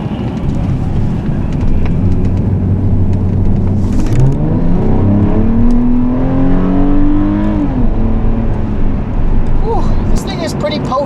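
A 2012 Hyundai Genesis Coupe with a 3.8 V6 and six-speed automatic accelerating, its engine note climbing steadily in pitch, then easing off after a shift, heard from inside the car under someone talking.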